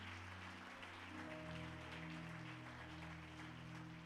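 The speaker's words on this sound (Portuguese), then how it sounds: "Dê mais uma salva de palmas bem forte ao Senhor." Congregation applauding during a church celebration service, a steady wash of clapping with sustained organ or keyboard tones underneath.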